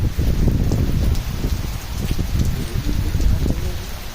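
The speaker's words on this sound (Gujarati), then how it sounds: "વરસાદ તો સારો થોડોક પડે છે" Light rain falls outdoors in a steady, soft patter, mixed with low rumbling wind buffeting and rustling throughout.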